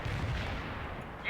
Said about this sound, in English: There is a target. Fire some rockets.